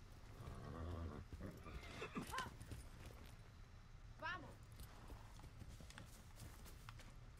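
Horse in the Far Cry 6 video game, hooves clip-clopping with a brief whinny partway through, heard under game noise and someone talking over the gameplay.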